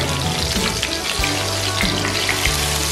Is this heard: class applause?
no